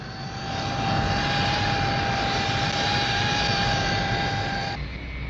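A Hawker Siddeley P1127 jet fighter in level flight roars steadily overhead, a loud sustained engine rumble with a high whine, fading slightly at the end.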